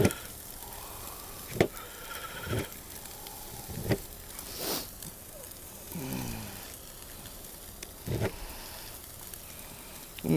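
Steak for fajitas grilling over open flames, a soft, steady sizzle and crackle at moderate distance with intermittent pops and thuds and some outdoor noise.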